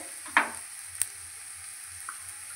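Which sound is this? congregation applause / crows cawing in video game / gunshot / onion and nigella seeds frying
onion and nigella seeds frying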